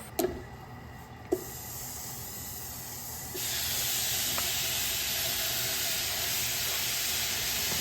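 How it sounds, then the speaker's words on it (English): Beef sizzles and hisses loudly in olive oil in a pan, with a couple of sharp clacks at the start before the frying swells into a steady, close, continuous roar. "We add 2 spoons of olive oil and start to cook the beef."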